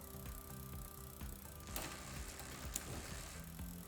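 Bicycle rear derailleur and chain ticking and clicking steadily as the cranks turn and gears shift after adjustment, with a continuous mechanical whir and a few sharper clacks, close and fairly quiet.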